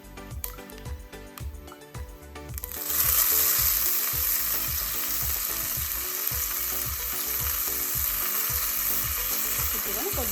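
Curry leaves dropped into hot oil for Telugu chinnulli kaaram burst into a loud, close, crackling sizzle that stays strong, after quieter frying with occasional stirring scrapes.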